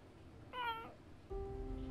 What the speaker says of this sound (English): Therapy cat.